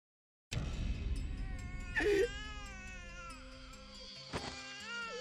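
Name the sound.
strange cat-in-heat-like voice in video game Chaos;Child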